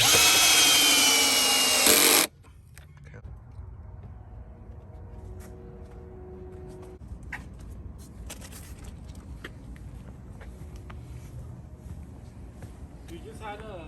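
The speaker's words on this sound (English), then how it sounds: "I still need to screw them in too." During a subwoofer and amp install in a G35 car, a power tool drives screws in a loud, close burst of about two seconds that stops abruptly, followed by people talking over quiet background noise.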